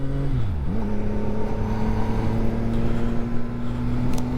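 A CF Moto 675SS sport motorcycle idles while warming up, with a brief rev dip early on, then a steady, close, rumbling idle hum throughout.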